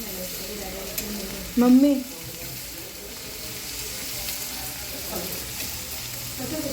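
Pieces of food frying in oil in a shared pan as they are flipped over, giving a steady close sizzle with a brief louder stir or clatter early on and a short spoken word over it.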